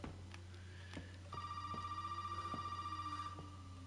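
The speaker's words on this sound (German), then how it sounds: "das Telefon nervt" An in-game telephone rings in Resident Evil 7: a faint electronic trill repeating with a steady pulse, preceded by a few soft clicks and taps.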